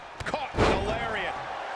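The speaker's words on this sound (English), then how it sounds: "Caught with a lariat." A wrestler gets flattened by a lariat in the WWE 2K25 wrestling game, a single heavy slam-and-thud impact that rises over low crowd noise and commentary.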